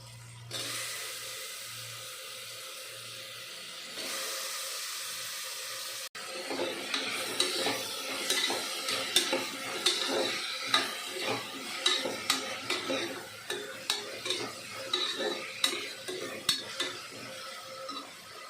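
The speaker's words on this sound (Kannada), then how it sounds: "ನಾವು ಹೆಚ್ಚಿಟ್ಕೊಂಡಿರೋ ಬದನೆಕಾಯಿ ಹಾಕಿ ಫ್ರೈ ಮಾಡ್ಕೊಬೇಕು" Chopped eggplant hits hot oil in a pan and fries, first a steady sizzle, then repeated scraping and clinking of a spoon stirring against the pan, close and rhythmic.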